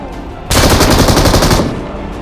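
Rapid automatic gunfire from the battle royale video game BGMI bursts in loud and sustained after a brief quiet start, a dense volley of shots lasting over a second before tapering off.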